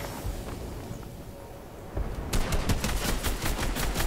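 Rapid automatic gunfire in Fortnite's Rally Royale mode begins after a quieter stretch of ambient noise, then continues as a steady, fairly close stream of sharp shots.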